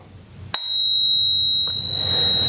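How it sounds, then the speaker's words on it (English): A single crisp ring of a bicycle bell, bright and close, with its tone lingering and fading over a low background hum. "Next one is have a bell."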